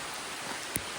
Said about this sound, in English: even though it's raining really hard and I can tell it's raining really hard, I'm just getting drips here and there.